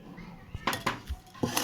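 Potatoes are scrubbed and rinsed in a metal pot, giving a few sharp clanks and rattling scrapes in short irregular bursts against a quiet background.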